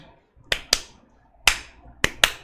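A teacher claps hands in a rhythmic pattern: five sharp, close claps in uneven groups, two quick ones, a pause, a single clap, then another quick pair, in a quiet room with no talking.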